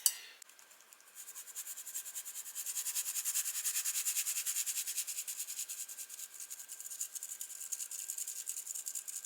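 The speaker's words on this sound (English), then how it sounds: "I'm going to sift all of these." Dry ingredients for banana bread being sifted through a sieve: a rhythmic, airy rasping that starts after a brief knock and keeps a regular shaking pulse, close and fairly quiet, with no talking.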